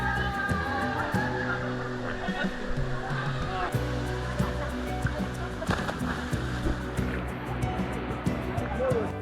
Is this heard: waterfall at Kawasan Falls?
yes